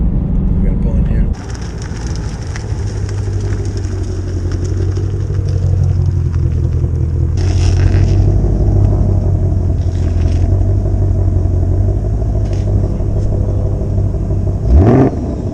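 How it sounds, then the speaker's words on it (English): A 2021 Shelby Mustang GT500 engine on the move, heard as a steady, loud, low rumbling drone from inside the car that holds throughout with a brief surge near the end. "driving that GT500 was a real treat."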